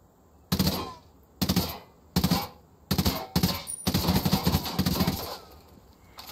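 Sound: gunfire in video game Ghost Recon Wildlands

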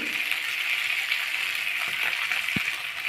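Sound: potatoes and flat beans frying in a pan

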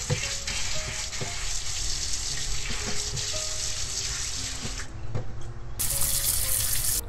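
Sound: washing taro under running water

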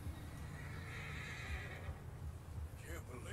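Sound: horse neighing and hooves, from video game Red Dead Redemption

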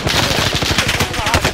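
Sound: gunfire in Call of Duty: Modern Warfare video game

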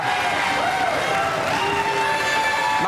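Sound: TV studio audience applause

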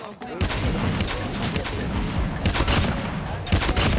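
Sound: gunfire in the video game Call of Duty Mobile

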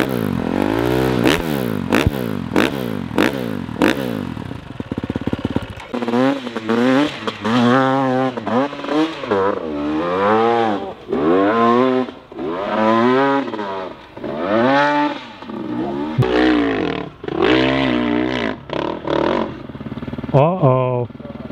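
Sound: 4-stroke hard enduro motorcycle engine starting and revving

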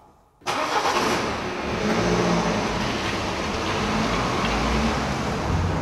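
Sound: car driving off

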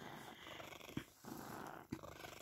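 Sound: cat purring

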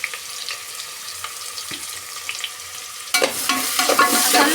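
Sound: onions and curry leaves frying in tempering oil

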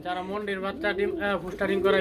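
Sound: pigeons cooing at a farm sale

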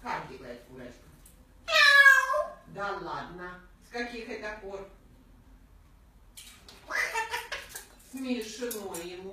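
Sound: parrot imitating cat meow

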